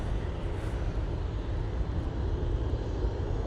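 A Ryanair Boeing 737 MAX 8 airliner arriving from Milan, a short steady low jet rumble at close range, constant in level with no talk.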